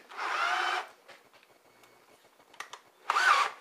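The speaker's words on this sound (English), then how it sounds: "You've got to watch now and drill these guys" Two short bursts of an electric drill whirring while fitting a bathroom fan, separated by quieter clicks and handling noises, close up and fairly loud.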